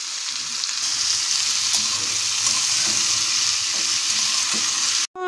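Bitter gourd and onion sizzle steadily in a pan, the hiss loud and continuous with occasional stirring scrapes, then potatoes are added and the frying briefly cuts out at the very end.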